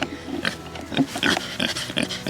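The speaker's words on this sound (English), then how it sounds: "To being a grouchy old pig." A pet pig named Tunes grunts and snorts in short, close, uneven bursts, a gruff run of oinks with little pause between them.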